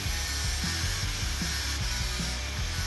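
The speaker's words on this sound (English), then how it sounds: "I've never used an angle grinder on a blade before" An angle grinder works a forged claymore blade at a coal forge, a steady loud abrasive rumble with rhythmic pulses as the disc is pushed along the steel.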